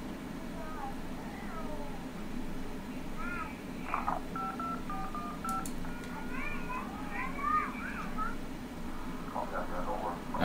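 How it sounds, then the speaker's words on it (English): Several short phone keypad digit tones from the 911 Operator video game beep in quick irregular bursts, mixed with faint meow-like cries over a steady background hum. "If you can't talk, please press any digit on your phone"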